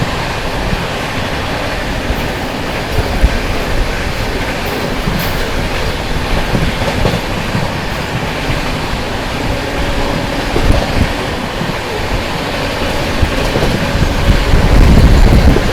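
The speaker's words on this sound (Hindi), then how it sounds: "चले यहाँ पर सामने से आती हुई रांची आनंद विहार झारखंड संपर्क क्रांति।" Ranchi–Anand Vihar Jharkhand Sampark Kranti Express train approaching on Indian railway tracks, a loud, continuous rumble and rattle of wheels and coaches that swells toward the end as it draws nearer, with no talking.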